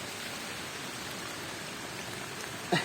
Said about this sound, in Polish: Deszcz pada. Malutki.